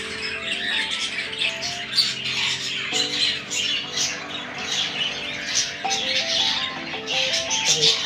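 Baby birds squawk repeatedly with shrill, insistent calls while being hand-fed, close by, over a soft melodic background tune.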